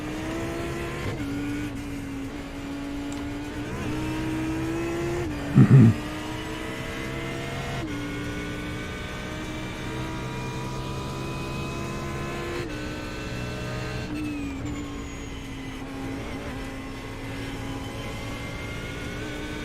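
An Audi GT3 race car engine howls around Oulton Park, its tone climbing and dropping through gear changes, with a short sharp thump near the middle, loud and close throughout.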